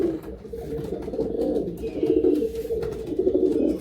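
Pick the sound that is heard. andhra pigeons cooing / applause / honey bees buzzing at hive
andhra pigeons cooing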